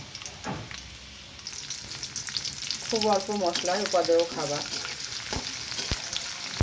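Onions and green chilies sizzle in hot mustard oil with kalonji seeds in a wok, a steady frying hiss with stirring scrapes and a few sharp knocks, while someone speaks softly over it.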